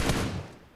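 Gunfire in the battle-royale game PUBG Mobile: a brief loud burst of shots at the start that fades away quickly, with no talking.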